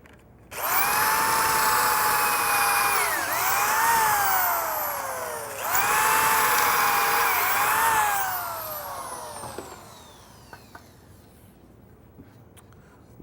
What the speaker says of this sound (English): I'm just going to show drilling a few of these holes here from one of my stretchers